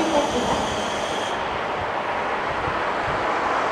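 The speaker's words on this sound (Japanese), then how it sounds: "4番乗り場には千歳急普通列車6分遅れで到着です" A KiHa 150 diesel railcar rolling into the platform at Minami-Chitose station, a loud close rumble of wheels and engine with a brief high squeal at the start, then a steady heavy roar.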